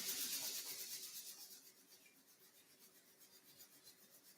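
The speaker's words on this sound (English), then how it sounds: "begin to rub your palms together, creating some friction, some heat." Palms rubbed briskly together during a morning yoga session, a soft continuous swishing friction that fades gradually, with no talking.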